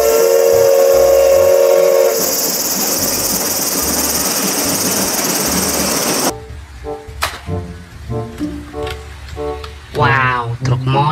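A toy Thomas train gives a loud, sustained electronic steam-whistle tone for about six seconds, then changes pitch partway through. Brief clicks and a voice follow.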